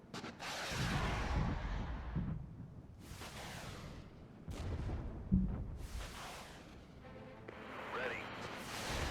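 Mortar fire in the tactical war game Regiments, heavy booming launches and blasts with long rumbling tails, several spaced apart over a low battlefield roar, with some voices heard in the background.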